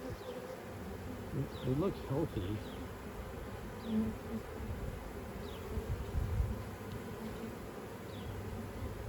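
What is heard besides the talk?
honey bees buzzing in hive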